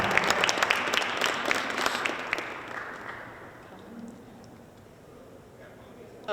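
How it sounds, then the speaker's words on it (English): Applause from an audience at a business accelerator event, opening as a dense burst of claps that gradually thins and fades out over several seconds, with some murmuring underneath. "A round of applause"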